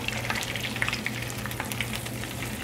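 Food fries in a pan with a steady sizzle and scattered pops and crackles, heard close and continuous with no talking.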